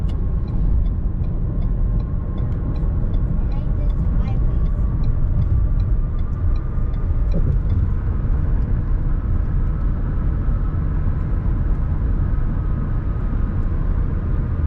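Interior of a car cruising north on the I-79 highway toward Erie, a steady loud low road rumble and engine drone throughout with faint ticking, and a voice speaking over it.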